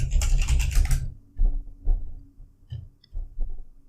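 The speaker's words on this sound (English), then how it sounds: "Now type in ifconfig again." A computer keyboard being typed on during Kali Linux setup, a short burst of rapid clatter at the start followed by a few separate soft keystrokes, close and with no speech.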